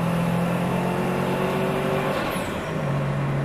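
A car engine revs hard and pulls forward, a loud close tone climbing in pitch and then easing off as the throttle lifts, with no talking.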